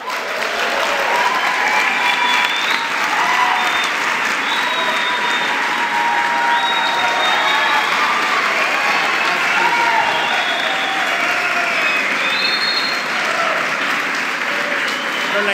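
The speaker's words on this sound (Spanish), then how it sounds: "muy bien merecido el aplauso, la ovación al señor Bremer." A large crowd gives Mr. Bremer a sustained ovation at a ceremony honouring Pan American Games athletes and coaches, with loud, continuous, even applause and cheering filling the hall, and voices faintly mixed into the roar.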